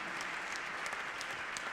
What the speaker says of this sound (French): on les applaudit bien fort, tous les 5